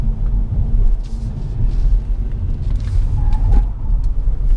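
Interior rumble of a 2019 BMW 530e plug-in hybrid sedan on the road during a hard left turn: a steady low drone and road roar, with a brief rise and a faint tonal whine partway through.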